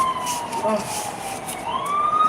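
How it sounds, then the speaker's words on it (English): A fire truck or ambulance siren wails in the distance, its tone sliding up and down steadily above a constant street hum, heard through an open window. "these fire trucks and ambulance be"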